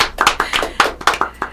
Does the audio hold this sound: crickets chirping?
no